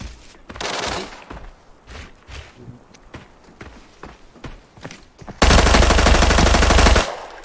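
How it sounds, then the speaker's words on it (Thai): Gunfire in the video game Arena Breakout, including an RPK light machine gun: scattered footsteps and single shots lead into a loud, sustained automatic burst of about a second and a half near the end. "มันโดนทางไหนยิงเลยวะ"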